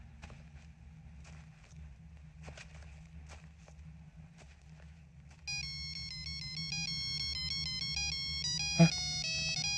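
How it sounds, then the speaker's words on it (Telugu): A mobile phone ringtone melody starts partway through on a train and plays steadily, loud and bright, after a stretch of quiet rumble and a few soft knocks. "Ring tone sir."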